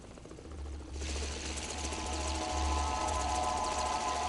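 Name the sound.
RC helicopter with a gun, from video game Dead Rising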